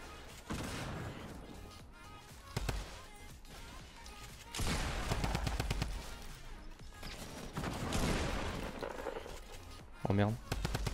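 Fortnite gunfire bursts out in rapid volleys and sharp cracks over a busy game soundscape, loud and dense, with a heavy impact near the end.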